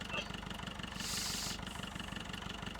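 A tractor engine drones steadily in Farming Simulator 15, a low, even idling rumble running throughout at moderate level with no one speaking over it.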